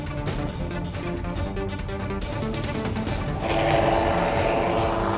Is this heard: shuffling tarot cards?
no